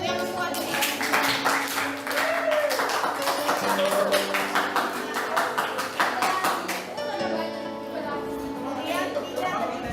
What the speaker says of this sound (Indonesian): Tepuk tangan dulu untuk yang kuat ini